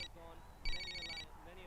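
A cordless home phone rings once with a brief electronic trill, quiet and in the background, with voices talking around it.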